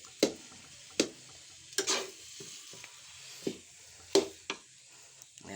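Pure ube halaya is stirred in a cooking pan, and a spoon scrapes the thick purple yam paste in irregular strokes with quiet gaps between them.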